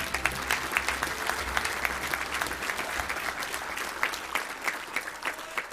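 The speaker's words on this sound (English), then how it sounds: "another big round of applause for your 2018 college MVPs." Banquet crowd at the Little Rock Touchdown Club awards applauding the 2018 college football MVPs, a full, sustained round of clapping with occasional sharper claps, steady throughout and slightly thinning near the end.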